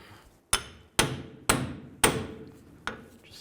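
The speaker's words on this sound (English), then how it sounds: "Now I'm just going to try a pickle fork." A hammer strikes a pickle fork five times to split a tie rod from the center link on a 1964-70 Pontiac GTO, giving sharp metallic blows at a slightly uneven pace, each ringing briefly in a quiet garage.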